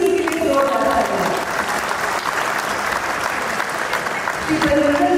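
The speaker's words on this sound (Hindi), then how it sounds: "प्लीज इनके लिए जोरदार तालियां।" A crowd at the Wagah Border ceremony in Amritsar applauds a guest, a former international hockey player, with dense, loud clapping that runs steadily for the full stretch as voices carry faintly on top.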